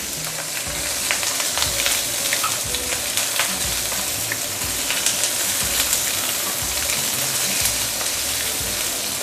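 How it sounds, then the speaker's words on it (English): Prawn heads sizzling in a hot pan, a loud, dense, continuous crackle close by with small pops throughout and no voices. "let's pan fry the prawn for a couple of minutes before we continue"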